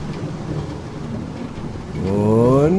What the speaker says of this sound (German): So, es regnet. In Strömen.